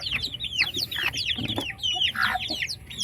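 A bantam hen clucks steadily nearby, overlapping with others, a busy run of short, chattering calls with no talking.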